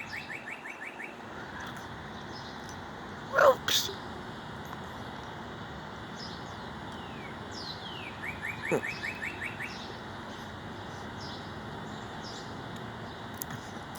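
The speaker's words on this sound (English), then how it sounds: "There's my other bird." A pet bird chirps indoors in quick repeated tweets, with a few louder calls near the start and middle over steady background hum and distant traffic, plus a brief spoken word.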